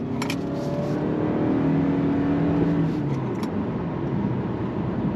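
A 2025 Toyota Camry SE hybrid sedan accelerating on throttle, a steady muffled engine drone heard from inside the cabin that rises slightly, with a few clicks early on.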